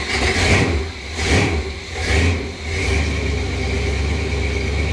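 A 454 big-block V8 in a Front Runner kit build cranks and fires, its engine surging through repeated loud revs before settling into a steady, rumbling idle, close up with no talking.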